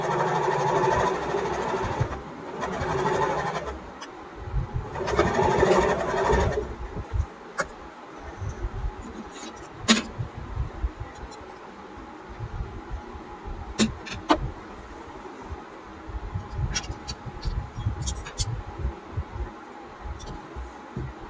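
A sewing machine stitches a seam along a marked seam-allowance line in two short whirring motor bursts, followed by quieter handling clicks and rustles of fabric.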